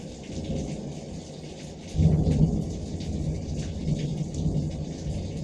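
Thunder rumbles low and heavy through steady rainfall during a storm, with a louder roll of thunder swelling about two seconds in and continuing under the constant hiss of rain.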